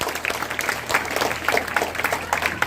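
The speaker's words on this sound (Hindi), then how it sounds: "एक बार जोरदार ताली बजाओ बेटा, ताली तो जबरदस्त" Crowd applause at a school archery competition welcome ceremony, a burst of steady clapping from many hands, fairly close and sustained throughout.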